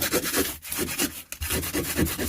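A round wooden corner is sanded smooth by hand during a kitchen renovation, with brisk rhythmic back-and-forth rubbing strokes, close and steady with no talking.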